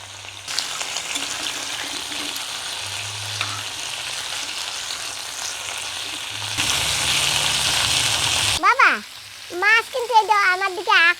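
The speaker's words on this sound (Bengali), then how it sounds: "এখন আমি ঢাকনটা তুলে নিচ্ছি নাড়া দিয়ে দিই" Fish head and ripe tomato curry cooks in a pan with a steady frying sizzle and occasional stirring scrapes, which grow louder near the end before a voice briefly speaks.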